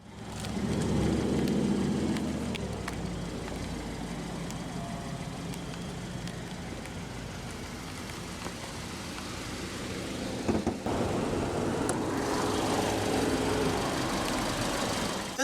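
A 2016 Kia Sorento LX's 2.4-liter naturally aspirated inline-four idles with a steady, close rumble and light mechanical vibration throughout. There is a brief clunk partway through, and no one speaks.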